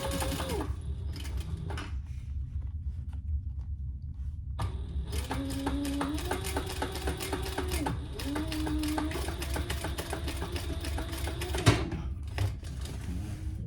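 A sewing machine top stitching a zippered clutch bag runs in steady whirring bursts with short pauses between runs, close and moderately loud, with a few clicks and handling noises around the stitching.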